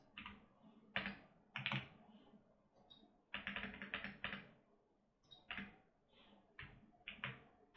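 Fingers tap out a name on a computer keyboard in a quiet room, short bursts of crisp keystrokes separated by brief pauses.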